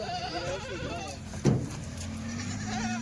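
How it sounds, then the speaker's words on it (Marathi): Kathiawari goats bleat nearby, several wavering calls overlapping, with a short thump midway and a steady hum underneath. "जनलेल्या शेळ्या आकाश दादा"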